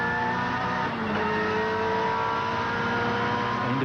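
Colin Bond's touring race car at Symmons Plains, heard from the in-car camera: a loud, continuous engine roar climbing in pitch as it accelerates, with a brief dip midway like a gear change.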